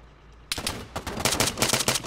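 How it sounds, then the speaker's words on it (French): Gunfire in the military shooter game Arma 3 starts abruptly after a quiet moment. It continues as loud, rapid automatic bursts of closely spaced shots with no talking. "Il tire dessus."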